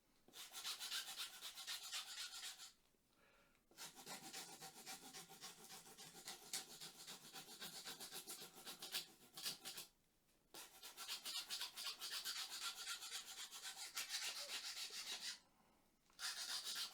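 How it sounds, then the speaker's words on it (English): A hand rasp files a cork overlay on a match rod screw fitting, long close rough scraping strokes in runs broken by short pauses, with no talk. "you can start to use the file side, make it much smoother instead of rough"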